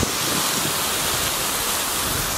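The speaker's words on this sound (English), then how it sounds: "That water fountain behind us" A city-centre water fountain sprays hard like heavy rain, producing a loud, steady broadband hiss heard up close with no other sounds standing out.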